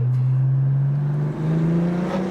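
A BMW M4 with an equal-length exhaust revs with a rising, throaty exhaust drone, held loud and close for a couple of seconds.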